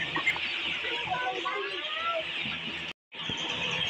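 Layer chickens crowded together in a poultry shed cluck and squawk continuously at close range, with a brief silent gap near the end.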